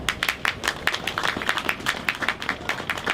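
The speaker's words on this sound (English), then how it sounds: "So let's give a round of applause." An outdoor crowd at a Black History Month Pan-African flag raising claps together, a lively round of applause with rapid overlapping hand claps at close range.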